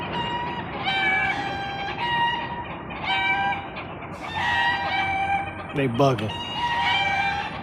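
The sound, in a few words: chickens and roosters clucking and crowing in a tree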